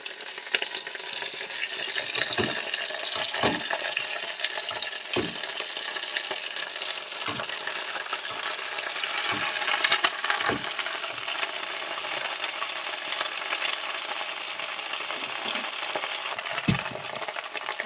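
Bhola fish wrapped in banana leaf sizzling steadily in a hot pan, with occasional sharp clinks and scrapes of a utensil against the metal over a continuous frying hiss.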